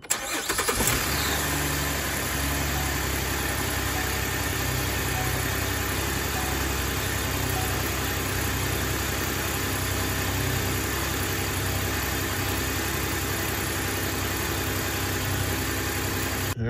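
A 2012 Chevy Impala engine cranks briefly and catches, then settles into a loud, steady idle that hums evenly to the end without anyone speaking.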